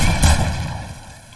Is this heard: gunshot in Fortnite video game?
yes